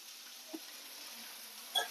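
Garlic frying in a pan for a vegetable gojju with mixed greens, potato and capsicum gives a faint, steady hiss of sizzling oil with a couple of soft pops.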